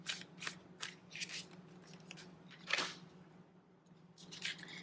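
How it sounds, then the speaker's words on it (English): Tarot cards being shuffled and flipped during a reading give quick, papery riffling bursts in short irregular clusters, close and fairly quiet over a low background hum. "There are cards just flipping all over."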